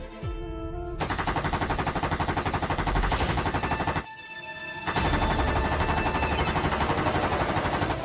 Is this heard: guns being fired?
yes